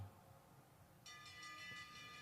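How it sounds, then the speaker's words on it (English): A last-lap bell at a bicycle race starts ringing about halfway through, bright repeated strokes over a low, faint background rumble. "Here comes the bell."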